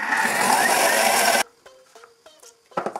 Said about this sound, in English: So now that it's cold, we will emulsify for 1 minute. Emulsify means mix it very, very fast.